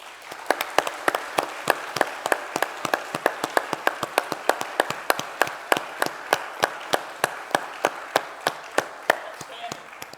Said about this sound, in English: Please join me in a round of applause for these special donors and their transformational leadership gifts to Florida Atlantic University.